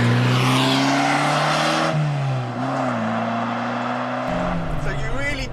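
Mid-engine Fiat X1/9 pulling hard in second gear through a hairpin, its engine note loud and close as it rises, dips and climbs again, with a person talking over it.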